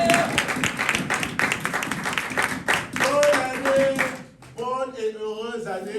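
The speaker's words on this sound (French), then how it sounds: "Est-ce qu'on peut l'applaudir ce matin?" Church congregation clapping and applauding at a Sunday morning service, a dense steady wash of hands that fades out as a voice and music take over near the end.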